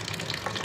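A weak stream of water running from a kitchen tap, used to rinse noodles during cooking, gives a steady close-up hiss and splash with no talking.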